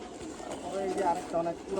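Low, rolling coos come from a male breeder pigeon close at hand, a couple of throaty phrases running together while someone talks over them.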